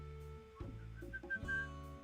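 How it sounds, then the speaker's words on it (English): A person whistles a pet's name, a short melodic run of clear high whistled notes, soft and close, over a faint low background tone. "Usually she comes swimming all over to me when I whistle her name like that"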